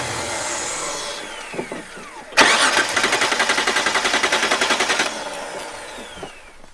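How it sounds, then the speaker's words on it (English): A Mitsubishi Pajero that stalled and won't restart, its starter motor cranking in a fast steady rhythmic churn for a few seconds before cutting off, with no catch; outdoor background noise before and after. "The Pajero stopped and won't start again."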